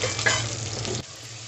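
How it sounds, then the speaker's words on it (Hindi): Sliced onions fry in hot oil in a home kitchen, a steady close sizzle with stirring for about a second before it drops away to a fainter hiss. "उसको स्लाइसेस में कट किया, तेल में फ्राई कर रही हूँ।"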